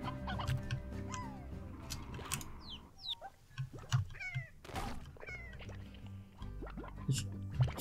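Chickens in the video game Slime Rancher cluck and squawk in quick, irregular bursts, close and fairly loud, mixed with soft thuds and other game sounds.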